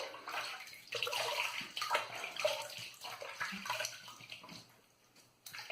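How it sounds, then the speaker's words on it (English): Tap water runs and splashes while a shaving razor is rinsed at a sink, a steady close gurgling flow with brief bursts and a pause near the end. "Let me rinse this off, put some more water in, and go for a second pass."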